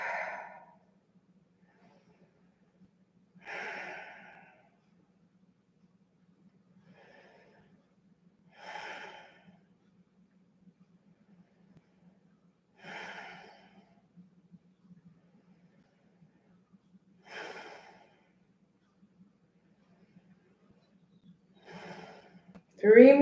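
Slow, deep breaths during a yoga exercise, each long exhale a soft airy rush spaced roughly every four to five seconds, close and quiet over a faint low hum.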